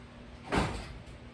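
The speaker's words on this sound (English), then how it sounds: "let's close that door" A door is pulled shut in a home kitchen, giving one brief, soft sliding thump that fades quickly against quiet room tone.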